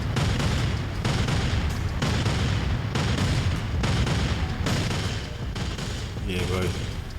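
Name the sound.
expensive fireworks exploding in video game GTA San Andreas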